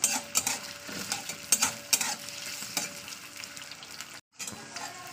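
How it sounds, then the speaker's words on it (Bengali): Chopped onion browning in hot oil for chicken kosha, a close, steady sizzle broken by sharp scraping stirs near the start, with a brief dropout to silence just past four seconds. "পেঁয়াজটা একটু বাদামি বর্ণের করে নেবো।"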